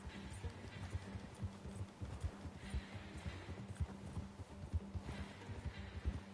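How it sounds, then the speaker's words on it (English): Horse hooves clip-clop steadily in Red Dead Redemption 2 while a rider travels during a lasso mission, a continuous rhythmic trot with game ambience throughout. "My horse can really ride"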